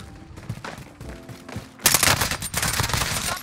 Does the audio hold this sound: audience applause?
no